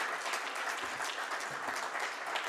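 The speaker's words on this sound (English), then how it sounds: "A big applause to them." A conference audience applauds steadily, with dense even clapping that fills the room at moderate level for the whole stretch and never swells or fades.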